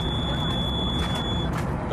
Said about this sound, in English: The fire alarm was beeping,